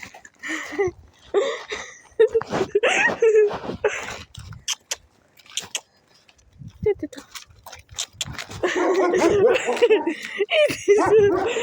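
A dog barks and yips in short bursts amid lively talking and laughter from people nearby.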